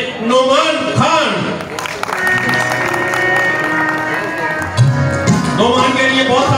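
Audience applause and clapping at an evening music gathering in Karachi, loud and sustained throughout, mixed with crowd noise and a musical tone in the middle, with voices heard over it.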